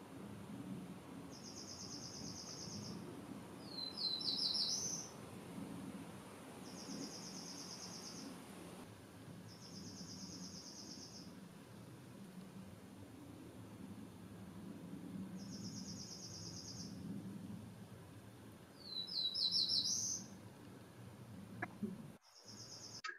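Small forest bird singing in woodland with dense understory: short, high, clear phrases repeated about every few seconds, moderately distant, over a steady background hum of insects.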